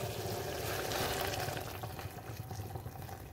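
Boiled water pours into a pot for tomato bath, a loud, continuous gushing splash heard up close that eases slightly toward the end, with no talking.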